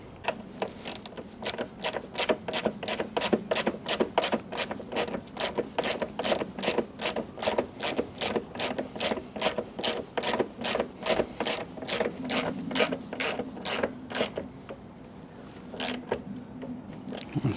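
A hand ratchet tightens motorbike mirror bolts, giving a fast, even run of close clicks for about fourteen seconds before stopping, with a faint rubbing sound underneath.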